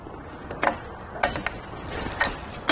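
A Hollywood Racks Destination four-bike rack on a 2022 Subaru having its latch thrown and strap pulled free, a handful of soft plastic clicks and ratcheting ticks, fairly quiet and close.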